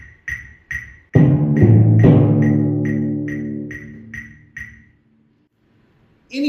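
Timpani strikes quarter notes, with adjacent drums damped between hits, over a ticking metronome click. The low drum tones ring briefly and then cut off, and the click continues alone before a final hit.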